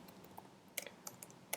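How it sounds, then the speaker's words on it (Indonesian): Light, sparse typing on a computer keyboard while entering a short Python program, a few quiet irregular key clicks, faint and close, with no talking. "Kita ketik ya, bisa ketik juga di Python shell Python script Anda"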